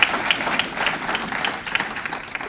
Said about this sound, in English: I'd like to ask everybody to once again give staff a round of applause.